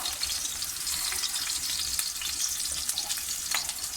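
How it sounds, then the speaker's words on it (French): Finger-shaped minced meat pieces frying in a little oil, a continuous close sizzle with soft bubbling and occasional crackles, no voices. "J'ai mis un peu d'huile, je vais les frire"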